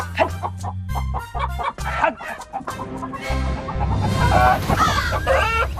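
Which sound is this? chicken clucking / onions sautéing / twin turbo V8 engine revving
chicken clucking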